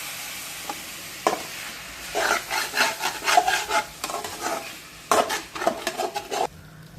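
Vegetable curry with masala being stirred in a pan, a ladle scraping and rubbing in irregular bursts over a soft sizzle, close and moderately loud, with no talking.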